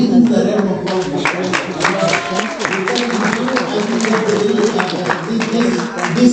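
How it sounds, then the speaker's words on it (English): An audience claps together at a formal discussion event, a sustained dense patter of many hands that stays even throughout, with a voice speaking over it. "This clapping is to tell me that I should stop."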